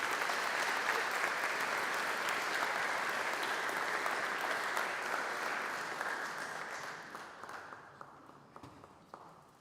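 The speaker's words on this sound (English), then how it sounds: "So help me give Lindsay a huge round of applause" Sustained applause from a large audience at a university honors convocation in a chapel, dense steady clapping that gradually thins and fades toward the end.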